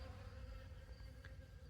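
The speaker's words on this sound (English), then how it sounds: "All the bees are swarming now." Bees swarming around carnivorous pitcher plants in a late-summer garden, a steady, faint droning hum of many insects' wings holding throughout, with no voices.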